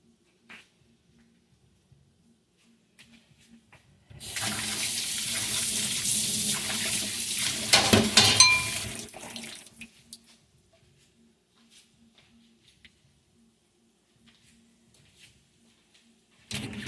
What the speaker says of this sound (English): I'm washing my spatula off.